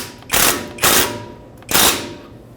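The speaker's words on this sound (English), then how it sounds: "you can now tighten your bolt" Ratchet tightening a brake caliper bolt on a 2015-2020 Ford F-150 during a front brake job: three loud, close bursts of rapid clicking with short gaps between them.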